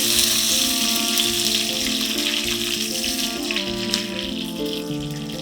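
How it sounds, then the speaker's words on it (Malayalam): Mustard and fenugreek seeds fry in hot oil for a Kerala-style rose apple pickle. A steady, bright sizzle runs throughout beneath loud melodic background music. "രണ്ടും കൂടെ ഇട്ട് കടുക് വറുക്കണം അച്ചാറിനായതുകൊണ്ട്"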